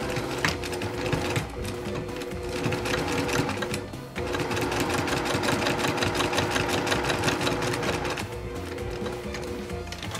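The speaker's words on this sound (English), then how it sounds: "Let's go to the sewing machine. When you start stitching, make sure you back stitch." A sewing machine stitches fabric for a reusable medical face mask, its needle running in a fast, steady, close whir with a brief pause near the middle before it resumes at full speed. No one talks.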